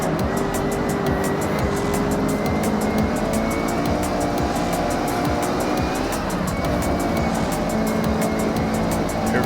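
A Lamborghini Revuelto races in Forza Horizon 6, its engine roaring loud and steady throughout with tire noise and a rising, shifting pitch, no voices over it.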